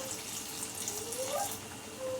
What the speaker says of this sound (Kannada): ಎಷ್ಟು ಬೇಕಷ್ಟು ತಕ್ಕಕ್ಕೆ ನೀರು ಹಾಕಬೇಕು